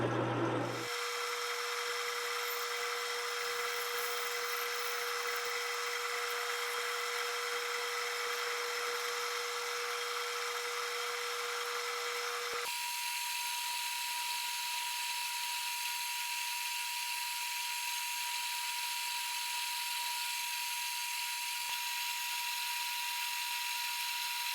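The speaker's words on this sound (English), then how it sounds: "then slowly feed in the drill bit, clearing chips as I go." A steady, high-pitched drill whine runs continuously as an oiled bit bores into a deactivated steel rifle barrel, shifting to a slightly higher tone partway through, with no talking.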